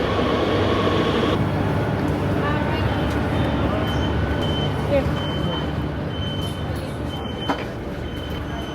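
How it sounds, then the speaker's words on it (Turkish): Loud rumbling roar of a Madrid metro train pulling into the station, with a steady mechanical hum and a couple of faint high tones near the end. "Metro geldi."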